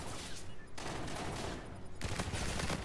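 Gunfire in a shooter video game during a doubles match: loud, dense bursts of rapid shots, with a brief lull mid-way before the firing picks up again even heavier.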